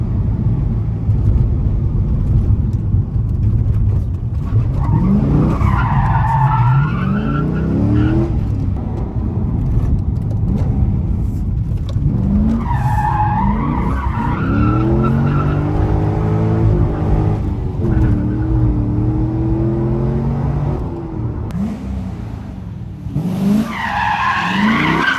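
Corvette C6 Z06 tires skidding and squealing while drifting, long wavering screeches rising and falling in repeated bursts over a roaring engine, close and loud with no talk.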